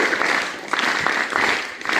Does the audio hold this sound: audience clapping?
yes